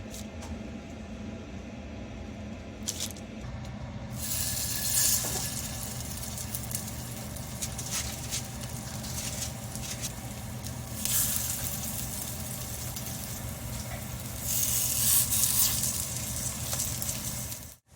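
Chicken kebab pieces sizzle and crackle in hot oil, a loud, steady frying hiss that swells in bursts as pieces go in or are turned, with no voices.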